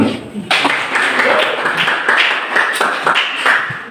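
Students in a civics classroom clap their hands after a group presentation, a ragged, uneven round of close, loud clapping that rises and falls over several seconds with some voices mixed in.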